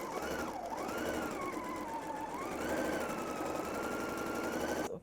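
Sewing machine stitching a pocket seam with French seams, a steady whirring run lasting several seconds at moderate volume, with a tonal hum that wavers slightly.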